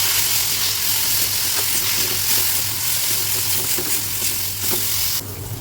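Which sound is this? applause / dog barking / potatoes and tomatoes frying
potatoes and tomatoes frying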